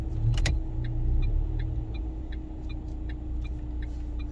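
A car rolls past on Avenida Atlântica in Balneário Camboriú, Brazil, on a rainy Sunday, a low steady rumble with faint jingling clicks, heard at moderate distance without speech.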